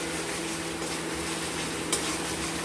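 Mustard-poppy paste with turmeric being sautéed in a pan for fish curry gives a soft, steady sizzle with light stirring scrapes throughout, plus one brief sharper clink near the end.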